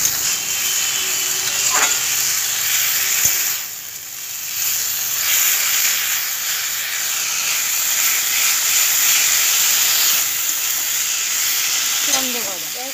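Leafy greens sizzle steadily in a hot pan, a continuous close frying hiss with occasional stirring and scraping, and a voice can be heard faintly at times.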